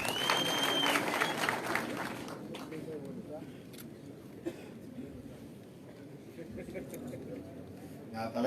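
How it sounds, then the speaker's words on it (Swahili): Audience applause at an economic forum in Bomet welcoming a speaker, a dense burst of clapping for about two seconds that thins into scattered claps and crowd murmur with a voice talking over it. "Hebu tumkaribishe kwa makofi."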